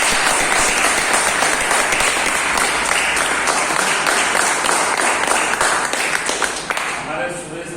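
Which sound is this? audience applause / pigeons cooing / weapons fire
audience applause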